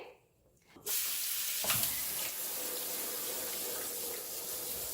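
Tap water running onto a metal range hood grille in a sink, starting abruptly after a brief quiet moment and then pouring steadily and close with a splashy hiss, no talking.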